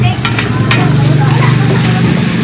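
Onion and ginger are stirred in a hot frying pan, with a loud, continuous, close sizzle and scraping throughout.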